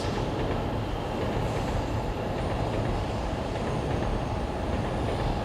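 A Shinkansen bullet train runs past in the city, producing a steady loud rumbling rush of rail noise that holds evenly throughout without any talk.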